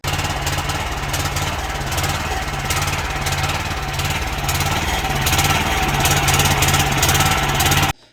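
A tiller's small engine runs loud and close throughout, a steady chugging drone with a pulsing, wavering rhythm under throttle, then cuts off abruptly at the end.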